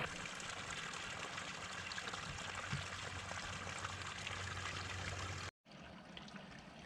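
Water trickling and flowing through a maze of shallow channels on a bison farm, a soft continuous burble with no voices, briefly cutting out near the end before resuming.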